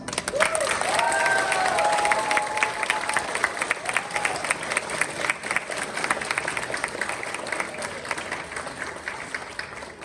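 Sustained loud applause from an audience at a Latvian award ceremony in Ireland, dense clapping filling the hall throughout with a brief cheer near the start.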